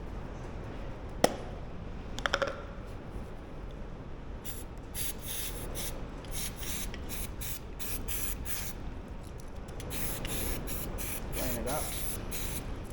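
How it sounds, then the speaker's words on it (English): A can of degreaser sprays into a bearing in short hissing bursts, preceded by a few clicks and handling knocks, close and fairly quiet with a faint voice nearby. "Spray it into the bearing."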